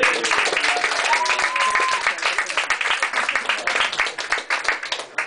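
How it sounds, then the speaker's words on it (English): An audience at a stand-up comedy show applauds the musicians who played that night, a dense, steady wash of many hands clapping that thins toward the end. "could we just have a round of applause for everyone that's played tonight?"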